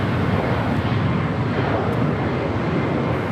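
A United Boeing 787 Dreamliner takes off from a runway at LAX. Its jet engines make a loud, steady, broadband roar that stays constant throughout.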